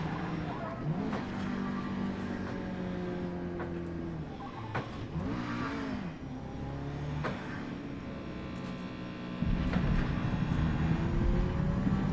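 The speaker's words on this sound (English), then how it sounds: "this car is not as easy to drive as the Toyota" A car drives steadily while its engine hums and rises and falls as it changes speed, with a few thumps and a heavier rumble toward the end, and no talking.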